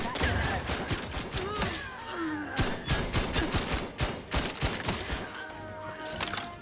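Sci-fi gunfire in The Outer Worlds 2: rapid, loud shots in dense volleys through the whole stretch, with whines and whooshes of weapon and creature effects between the cracks.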